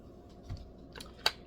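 A hand chopper chopping cabbage makes a few quick, crisp chopping clicks, close and fairly quiet, with one sharper snap near the end.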